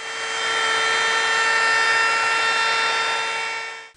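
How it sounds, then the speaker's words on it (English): A wood router on a trammel with a half-inch straight bit cuts an outside curve in wood, a loud steady high-pitched whine held evenly for several seconds before cutting off at the end. "I've got my trammel set up with my router, and I've got a half inch straight cutting bit."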